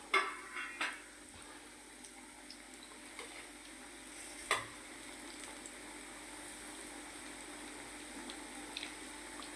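Sweet potatoes and vegetables for Kathiyawadi undhiyu fry slowly in oil over a low flame, making a faint, even hiss with a few soft clicks near the start and no voices.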